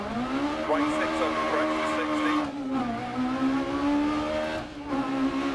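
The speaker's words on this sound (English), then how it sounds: "it's the ability to just hang it completely sideways and just mat the throttle to pull it around" An engine holds steady high revs at full throttle while a rally car slides sideways through a stage in a racing video game, with a brief dip in pitch as it pulls around. The engine tone is loud and continuous, and a voice talks over it.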